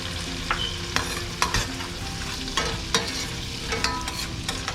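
Garlic, ginger, pimento and thyme sautéing in melted fat in a pan for brown stew fish, a steady close sizzle broken by several sharp scrapes and clinks of a spoon stirring, with no talking.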